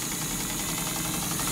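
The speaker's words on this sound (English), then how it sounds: "And it sews really fast." A 1958 Windsor clone sewing machine stitching fast, a rapid continuous mechanical whir and chatter at close range, steady and unbroken throughout.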